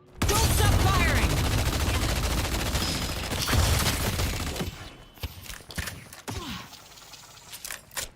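Dense automatic gunfire from the video game Deadlock rattles loudly for several seconds, then thins into scattered shots and mechanical clicks, with a brief voice mixed in.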